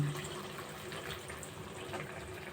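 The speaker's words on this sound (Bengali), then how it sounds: "ছোট বাটির আর এক বাটি জল দিয়ে দিলাম" Water poured from a small bowl into a cooking pot, a quiet steady splashing trickle heard up close for a couple of seconds with no talking.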